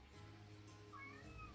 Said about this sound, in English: I don't know if my cat's audible on the stream or in curse, but she's fussing